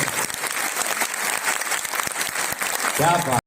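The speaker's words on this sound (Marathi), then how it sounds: "पण जे हे सौंदर्य आहे त्या सौंदर्यासाठी जरा जोरदार टाळी झाली पाहिजे" An audience at a street vendors' festival breaks into loud, dense applause that fills the short moment, with a voice rising over it near the end.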